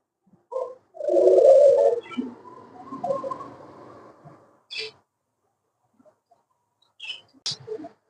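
Australian doves give soft, low coos in a short burst, followed by a few brief, higher calls, with quiet pauses between.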